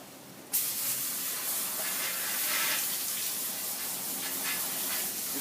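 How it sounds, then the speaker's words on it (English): A hose switches on abruptly and sprays steadily, a broad continuous hiss of water splashing onto canister filter sponges close by. "just spray these out until they come clean"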